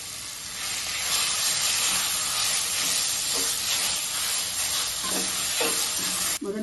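Grated raw mango stirred into hot oil with dried red chillies for mango thokku, giving a loud, continuous sizzle with stirring scrapes, ending with a brief clatter.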